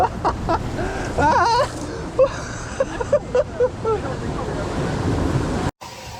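Rushing water and spray surround a river raft on the Raging River ride at Six Flags Great Escape, a broad, close wash of churning surf and wind buffeting, with excited voices and shouts breaking through over it.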